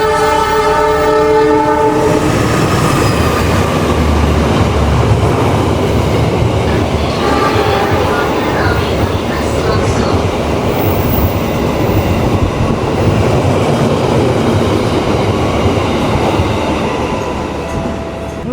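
A local train on the Walahar Cikarang-Purwakarta line runs loud and close, its horn blaring at the start before a continuous rumble and rattle of wheels on rails carries on throughout.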